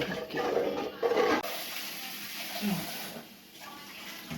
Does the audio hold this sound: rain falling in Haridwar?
no